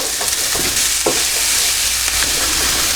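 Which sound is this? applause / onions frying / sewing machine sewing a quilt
onions frying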